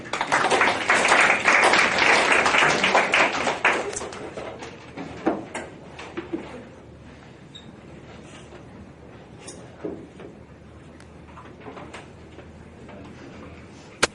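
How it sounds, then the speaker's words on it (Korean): Classroom applause for a student presenter at the front, loud and dense for the first few seconds, then thinning to a few scattered claps, shuffles and knocks in a quiet room. "이기열 앞으로 박수 한번 쳐주세요"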